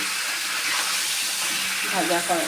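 Potatoes coated in turmeric fry in a pan, giving a steady, dense sizzling hiss throughout. A faint voice-like murmur rises briefly near the end.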